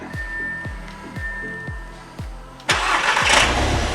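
A 2016 Audi TT started by remote start, preceded by a series of rhythmic mechanical clicks, then the engine catches and settles into a steady, close, loud run.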